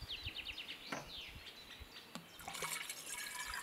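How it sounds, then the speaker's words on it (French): Water is poured from a drinking glass into a bottle during a primary-school capacity lesson, a soft gurgling trickle in the last second, faint and quiet, preceded by light ambient chirps and small knocks. "Nous allons verser le contenu du premier verre"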